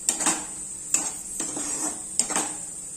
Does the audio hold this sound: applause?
no